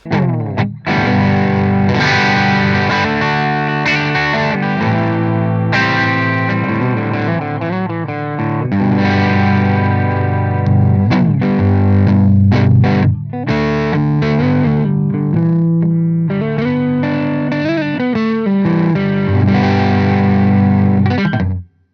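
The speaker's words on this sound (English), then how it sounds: "On the neck pickup, we're entering kind of fuzz territory." An electric guitar through a G-Lab Chaos Overdrive pedal on the neck pickup, with a fuzzy, overdriven tone, plays chords and riffs continuously, loud and sustained with no voices.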